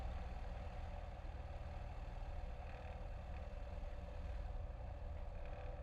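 Old V-tail light aircraft propeller engine running steadily at high RPM before a takeoff, a constant droning hum heard from inside the cabin with no voices.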